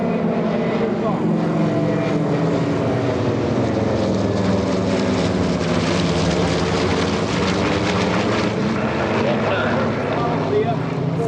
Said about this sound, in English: you're going to hear the growl of the Pratt & Whitney engine